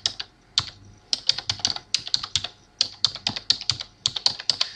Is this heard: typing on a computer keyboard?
yes